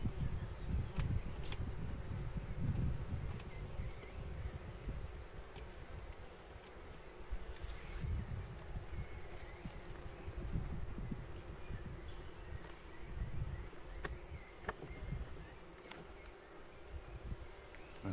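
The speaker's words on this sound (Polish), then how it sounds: "Pszczoło, bo ty jesteś dobra pszczółka." Honeybees buzzing at the Nowa Aleksandria apiary, a steady close swarm drone with individual bees passing near the microphone and light wind rustle, no talking.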